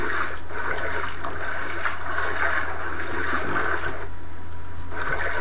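Water rushes and splashes in a horror video game, a continuous, fairly loud flowing hiss with a slight surge partway through and no speech.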